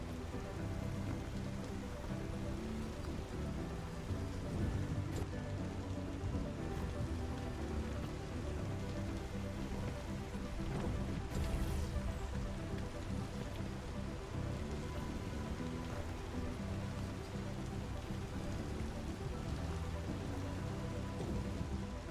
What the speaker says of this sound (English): Sounds like it's raining.